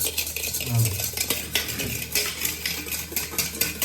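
Curd being stirred in a bowl with a spoon for dahi vada, a steady scraping and clinking of utensil against the vessel, close and moderately loud, with no talking.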